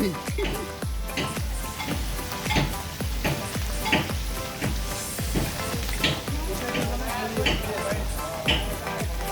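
Hilsa fish fries in a pan, a steady loud sizzle with repeated clattering knocks as pieces are turned, while background music plays throughout.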